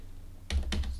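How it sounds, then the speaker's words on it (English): Two quick taps on calculator keys, close and distinct, following a brief quiet moment. "I'd be typing into my calculator"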